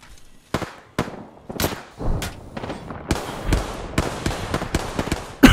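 Gunfire in an Apex Legends fight between squads, a string of sharp cracking shots at irregular intervals, some single and some in quick clusters, with thuds and echoing tails between them.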